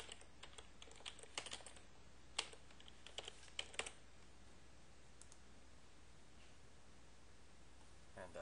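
Light keyboard typing entering a username and server name into email settings, scattered clusters of soft key clicks over a quiet hiss, fading to near silence in the latter half.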